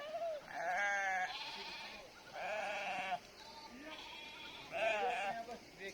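Sheep on a mountain trail toward Chanchal pass in Uttarakhand bleat repeatedly, three or four long wavering calls in succession, close and loud against an open outdoor background.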